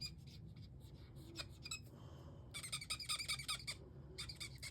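A Shy Shamrock coloring marker squeaks across paper in a quick series of close, faint, high-pitched strokes, denser toward the end, with no voices.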